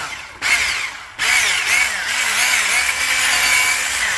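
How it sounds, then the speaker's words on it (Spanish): Electric hand mixer beating batter for a lemon sponge cake, a steady high whirring drone that starts, cuts out briefly, then resumes and runs continuously close to the microphone. "ahora lo que voy a hacer es batir esto también, rapidito"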